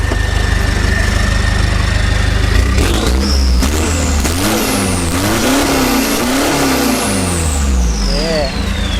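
Isuzu D-Max pickup with a fully tuned engine revving hard at a fuel station, a loud close roar rising and falling in repeated throttle blips, with people talking over it.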